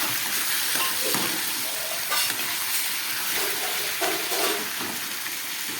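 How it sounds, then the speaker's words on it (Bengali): Marinated chicken sizzles in a pan with well-fried onions, a steady close hiss of frying broken by occasional louder crackles and stirring scrapes, with no voices. "পেঁয়াজটা খুব ভালো করে ভেজে নিয়েছি এবার এই ম্যারিনেট করা চিকেনটা আমি এর মধ্যে দিয়ে দিলাম"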